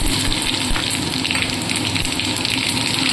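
Whole cumin and coriander seeds tempering in hot oil over a low gas flame, giving a loud, continuous close sizzle with a dense fizzing hiss and no voices.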